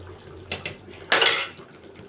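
A metal lid clatters onto a pan of chicken patiala, with a couple of light clinks followed by a louder, longer rattle as it settles. The clatter is close and there is no speech.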